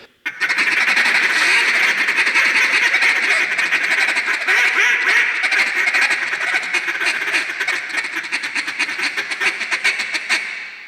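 A rapid, continuous stream of aggressive duck feed calling, quacking chatter loud and close for about ten seconds, thinning into separate pulses near the end.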